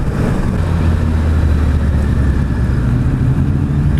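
A 2016 Suzuki Hayabusa sport motorcycle is ridden in second gear, its engine giving a loud, steady low drone with rushing wind noise that holds evenly throughout.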